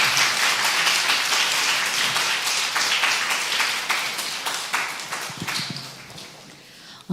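A church congregation applauding steadily, dense clapping that gradually thins and fades out toward the end.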